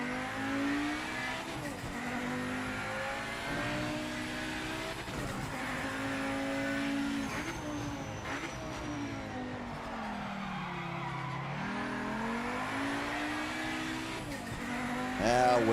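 Race car engine droning and revving steadily through corners in the video game Project Motor Racing, with pitch dipping and rising as it shifts and brakes, brief tire squeal, and someone talking over it throughout.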